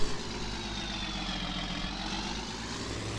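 Steady idle of a John Deere 4950 tractor engine in Farming Simulator 19, a continuous low rumble held at an even level with no speech over it.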